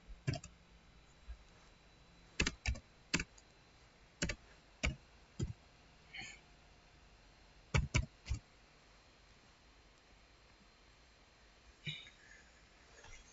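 Scattered clicks of a computer keyboard come in short bursts and single taps with pauses between, close but quiet, over faint background hiss and no talk.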